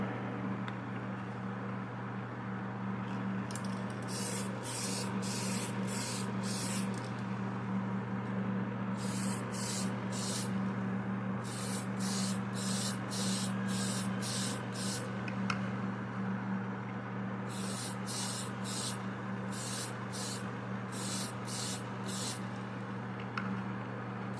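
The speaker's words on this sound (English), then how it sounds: "Notice how far away I'm spraying too." Repeated short bursts of spray paint hiss, misting onto a model from a distance, in quick clusters of several pumps, separated by pauses, over a steady low background hum.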